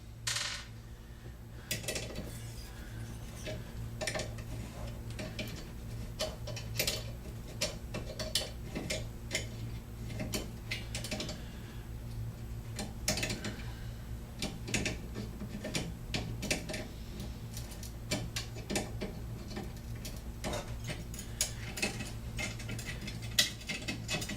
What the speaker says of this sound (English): Go ahead and remove the muffler so I can see.